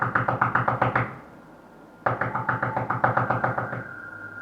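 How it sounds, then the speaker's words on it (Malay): A door being knocked on in two bursts of rapid, loud, close raps, the second series longer and harder, with a pause between them and a faint tone lingering at the end. "dia terdengar bunyi ketuk pintu, tapi kali ni lebih kuat."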